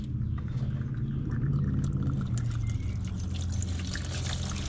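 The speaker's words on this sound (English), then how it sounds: "I'm gonna dump this fuel out" Fuel from a push mower carburetor is dumped into a clean pan, giving a steady close trickling pour that runs without a break and with no talk.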